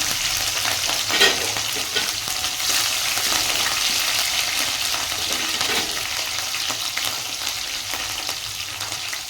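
Curry leaves and chopped green chillies crackle in hot oil for a cauliflower palya, a loud, dense, continuous sizzle with scattered pops and stirring throughout.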